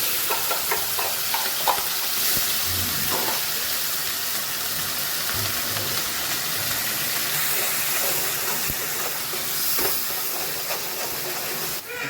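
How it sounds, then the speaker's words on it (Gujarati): Onion goes into a tempering of cumin, mustard seeds and asafoetida in hot oil, giving a loud, continuous hissing sizzle with scattered crackles that holds steady throughout, with no voices. "પછી એનો વઘાર કરવાનો છે તો પછી એમાં આવશે હવે ડુંગળી"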